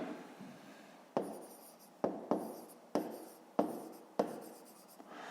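Marker or chalk strokes writing out a math solution, a series of sharp taps and short scratching strokes repeating at irregular intervals, close and fairly quiet.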